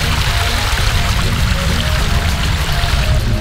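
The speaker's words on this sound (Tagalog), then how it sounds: "Nandito ako sa tuktok ng falls ngayon." Silver Mine Falls in Mui Wo, Hong Kong pours in a loud, steady, close roar of rushing water that fills the whole stretch without a break, with no voices.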